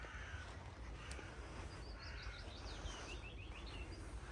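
Birds call faintly in the distance, a crow cawing among a few repeated chirps over a steady, quiet outdoor hiss.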